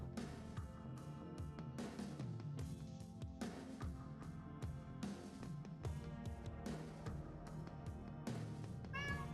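A pet cat meows once, briefly and close by, near the end, half buried under steady background music.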